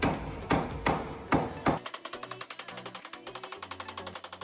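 Rubber mallet tapping F-channel pontoon deck trim into place: four loud, separate whacks, then a fast, steady run of lighter taps close by.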